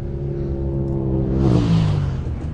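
A Can-Am UTV engine roars and revs hard through a rock section during an off-road race, its pitch climbing and shifting as it accelerates, close and loud with no talk.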